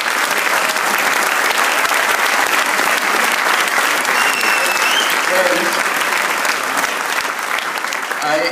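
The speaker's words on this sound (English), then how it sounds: "he really deserves a very big round of applause" An audience gives a loud, sustained round of applause for a program trainer, dense clapping continuing evenly throughout with scattered voices underneath.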